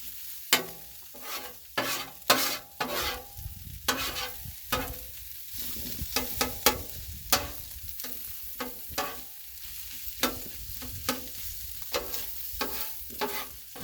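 Eggs fry on a Blackstone griddle with a soft steady sizzle beneath, punctuated by a dozen or so sharp scraping clicks of a spatula against the flat-top, close and alone without talk.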